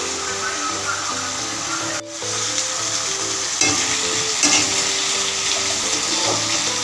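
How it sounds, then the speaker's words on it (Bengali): Ginger paste frying with chopped potato and pointed gourd in a pan, a steady close sizzle with stirring scrapes throughout and one brief dip in the crackle early on. "আদা বাটাটা দিয়ে আলু পটলের সঙ্গে ভাজা ভাজা করে নিচ্ছি"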